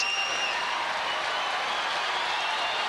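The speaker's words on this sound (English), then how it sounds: "Crowd really starting to get into it now, and well, they should" Tennis crowd applauding steadily during a Rafter vs Pioline match in the fourth set, a dense, sustained wash of clapping at moderate distance, with brief high whistles near the start and no talk.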